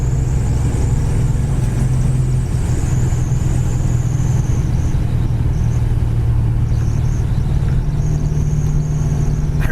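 1969 Plymouth Road Runner with a built 440 cruising at 60 mph on a windy day, a steady loud low engine drone with road and wind noise heard from inside, unbroken and without talk.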